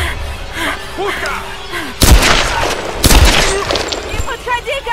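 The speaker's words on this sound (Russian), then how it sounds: "Пушка!" Cannon fire in an animated Tomb Raider adventure: two heavy booming blasts about a second apart, loud and close, cutting through background voices and action sounds.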